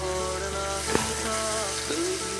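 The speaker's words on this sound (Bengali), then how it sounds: "পনিরগুলো প্রায় ভাজা হয়ে এসছে, ওগুলোকে উল্টে দেওয়া হচ্ছে।" Paneer pieces frying in oil in a wok, a steady close sizzle and crackle with a couple of brief clinks as the pieces are turned.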